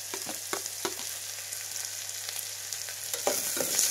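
Finely chopped onions, two medium ones, fry in a pan with a steady broadband sizzle, broken by several soft stirring scrapes and a slight swell near the end; no voices.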